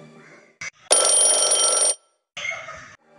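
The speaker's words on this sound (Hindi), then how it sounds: "किसका फोन है?" A telephone rings loudly and close in one sustained electronic burst, then sounds again more briefly after a short gap, with faint background noise between.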